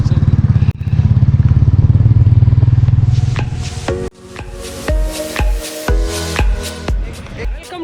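Motorcycle crawling at low speed over a rough, broken hill road in Nagaland, its engine putting steadily near the mic before turning choppy and uneven amid clattering and jolts, with voices heard over it.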